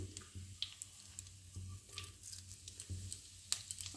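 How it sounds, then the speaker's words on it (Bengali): Cumin and fennel seeds tempering in hot oil alongside a dried red chilli for a Bengali turnip curry: a soft, steady sizzle dotted with small crackles and pops, close by with no voices. "আর এতে আছে জিরে ফোড়ন দিচ্ছি, আর দিচ্ছি মৌরি ফোড়ন"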